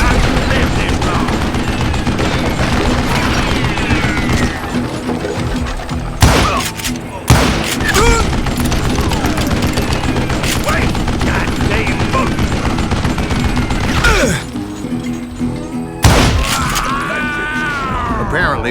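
Sustained gunfire from the Call of Juarez Gunslinger western shooter: dense, loud volleys of rapid shots with heavy booming impacts and brief pauses, continuing almost without a break.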